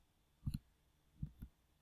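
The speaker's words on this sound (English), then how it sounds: "So I'm just right clicking on the data set," Quiet computer mouse right-clicking: two pairs of soft, close plastic clicks spaced about a second apart, heard alone in a quiet room.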